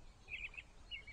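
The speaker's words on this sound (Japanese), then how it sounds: "するとどこからか鳥の声が聞こえてきた。" A bird sings in a children's Thomas toy-train story, two brief high chirping phrases, faint and clear over a low background hum with no voices.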